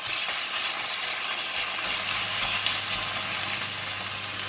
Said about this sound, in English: I'm going to stir fry the beef